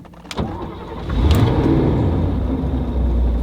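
A Mercedes 300SEL engine starts and settles into a steady, loud idle close by, with a few clicks at the start and a continuous low rumble afterward, no talking.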